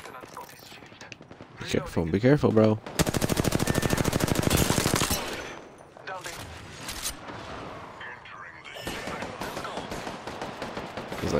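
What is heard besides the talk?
gunfire in the video game Apex Legends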